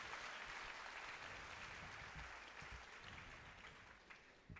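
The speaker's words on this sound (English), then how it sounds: "A huge round of applause, ladies and gentlemen." Steady applause from a conference audience, a dense wash of clapping that holds throughout, heard from a distance.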